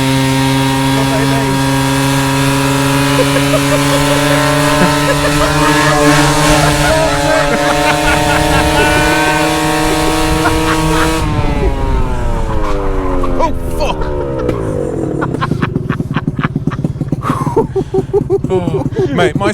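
A two-stroke budget motorcycle engine revs hard and climbs in pitch as it picks up speed to about 44 mph, then shifts, drops and buzzes unevenly; loud and close.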